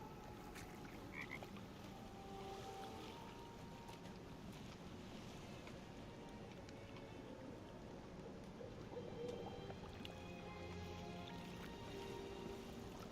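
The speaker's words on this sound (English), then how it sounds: "The frog's entire body shakes. It ribbits erratically as if in pain." A frog croaks repeatedly in an irregular, uneven pattern against a steady bed of outdoor water and wind noise, with no talk.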